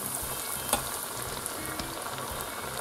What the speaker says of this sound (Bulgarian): Ето вижте, добре загрятата мазнина веднага започва да кипи